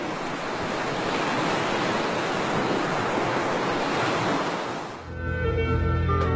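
Sea waves at Kotka sea beach in the Sundarbans on the Bay of Bengal: a steady, loud roar of surf washes on continuously, with wind buffeting the microphone and a change in the texture of the wash near the end.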